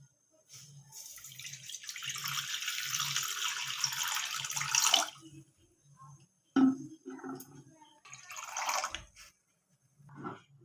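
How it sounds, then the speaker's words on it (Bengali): Water splashes into a kadai for semolina pitha in a close, hissing pour lasting a few seconds, then shorter splashes and drips, over faint rhythmic background thumps. "কড়াতে দেবো 2 কাপ পরিমাণের জল।"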